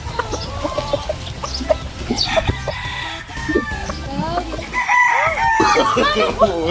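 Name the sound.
rooster crowing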